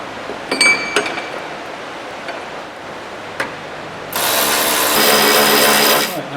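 A ratchet tightens brackets back onto a Honda CR-V iDTEC airbox, with a few sharp clicks early on, then a dense, steady, rapid ratcheting buzz for about two seconds, close by with no talk.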